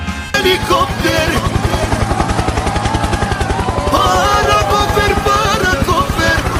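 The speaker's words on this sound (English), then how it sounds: "Helicopter," A helicopter's rotor pounds in a fast, steady rhythmic chop that stays loud throughout, with other sounds layered over it.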